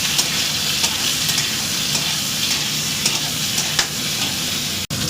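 Taro roots and green chillies sizzle in oil in a wok, a steady close crackle with light stirring taps and a sharp click near the end.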